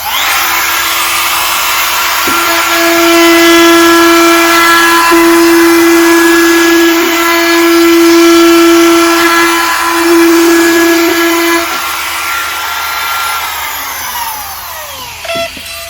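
Wood router rounding over the edges of a wooden picnic wine table, a loud steady high motor whine with a shifting cutting tone that rises and falls as the bit works along the edge, then briefly spins down near the end.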